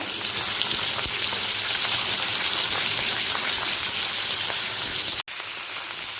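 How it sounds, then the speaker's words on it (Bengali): Fish heads frying in hot mustard oil, a loud dense continuous sizzle and crackle close up, steady throughout with one brief dropout near the end. "মুড়োগুলোকে ভেজে নেব"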